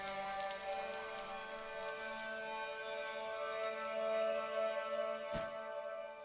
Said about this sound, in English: They're out in the rain.